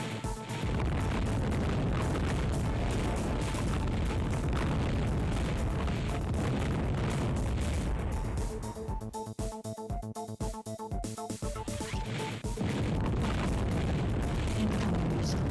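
Missile explosions in the FireFight video game roar as a dense, continuous wall of booms and rumbling blasts, loud and unbroken throughout, with a steadier droning layer in the middle stretch.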